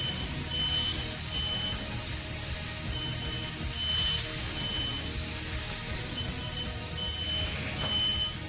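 A smoke alarm set off by griddle smoke while cooking smash burgers in a home kitchen gives short, repeated high beeps at a steady pace over a constant background hiss, with no talking.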